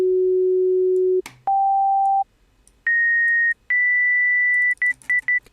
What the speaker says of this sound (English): now we have a perfect sine wave, and you get one single pure frequency.